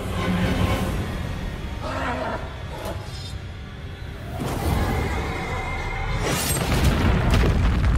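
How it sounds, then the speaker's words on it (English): Fire shot being cast in the video game Lords of the Fallen, a loud booming burst with crackling whooshes that swell and repeat across several seconds amid dense game sound. "Oh, that's a fire shot."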